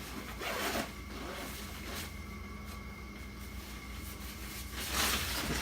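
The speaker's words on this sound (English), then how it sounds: "Got a zipper here somewhere too." A zipper on the carrying case of a large green screen is pulled open in long rasping strokes, loud and close, with a louder scraping burst toward the end.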